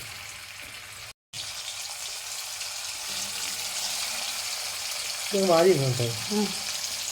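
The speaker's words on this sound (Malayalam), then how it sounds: "ഇനി നമുക്ക് മീൻ വറക്കാം" Fish frying in oil gives a steady, close hiss with a brief drop to silence early on, and someone speaks briefly over the sizzle later.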